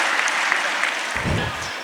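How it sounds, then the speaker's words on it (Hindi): Audience applause at a Hindi poetry and song gathering in Maharashtra, greeting a young woman singer; steady clapping fills the room throughout, with a slightly denser burst near the end. "एक बार उसकी दूरी के नाम पर तालियां बजाइए"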